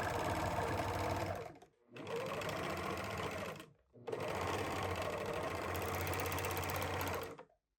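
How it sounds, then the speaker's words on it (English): An overlocker runs in three long bursts finishing the seams of a dress, its steady rapid stitching buzz close and loud, broken by two short pauses before stopping. "Then overlock everything to finish."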